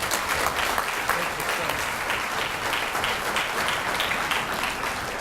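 An audience at a student award ceremony applauds in a dense, sustained wash of many hands clapping at once, loud and even throughout with faint voices underneath.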